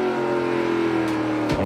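A NASCAR Pinty's Series stock car racing at Edmonton, its engine droning loud and steady with a rising harmonic whine, then cutting off abruptly at the very end.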